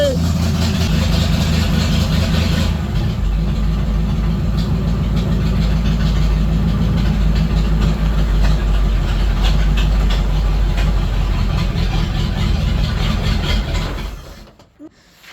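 A Ford F3 pickup truck idling after a very cold start following months of sitting, a loud, steady low rumble running close for most of the clip before cutting out near the end.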